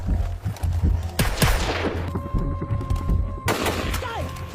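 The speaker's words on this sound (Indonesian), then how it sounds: "Prince malah tertembak dari belakang dan Amber kembali jatuh ke tangan musuh" Gunfire in a battle scene from the 2022 action film Echo 3, with bursts of rapid shots and a heavy blast amid a loud, dense soundtrack.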